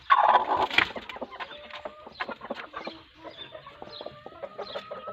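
Desi hens brooding on eggs cluck while eating feed, a loud burst of clucking at the start followed by repeated short clucks and murmurs, close by and alone.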